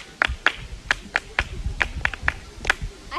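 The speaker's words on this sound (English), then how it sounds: "Clap for yourself." Children in a classroom clap their hands for themselves, a run of sharp, fairly loud claps in an uneven rhythm over about three seconds, with a murmur of voices underneath.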